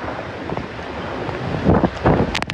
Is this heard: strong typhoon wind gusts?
yes